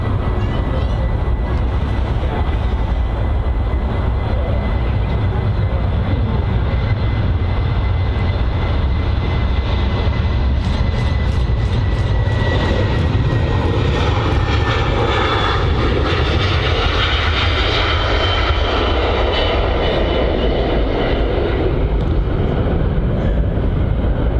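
A plane takes off on the runway at Manchester Airport, its loud steady engine roar and rumble filling the whole stretch and rising as it rolls and climbs, with no talk over it.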